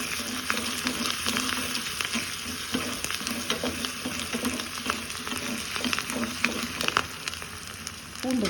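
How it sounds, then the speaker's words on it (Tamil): Curry leaves, including tender young ones, and asafoetida frying in a pan for sambar, a continuous crackling sizzle with frequent sharp pops and stirring scrapes throughout. "கருவேப்பிலை, துளிர் கருவேப்பிலை, பெருங்காயம் போட்டு நல்லா வதங்கணும்."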